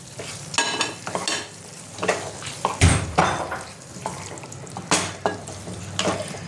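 Tomato, green chilies and diced onion being sautéed in oil for a makhana curry, with loud repeated spoon-scraping strokes against the pan in an uneven rhythm over a bubbling sizzle, close up.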